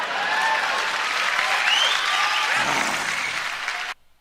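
Audience applause at a stand-up comedy show, a loud sustained wash of clapping with a few cheers and whoops over it, cut off abruptly at the end.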